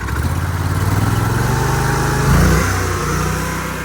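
An Oscar 336 portable sawmill's small gasoline engine revs up loud and close, a buzzing drone that steps up in pitch, surges briefly near the end, then settles at a higher steady speed.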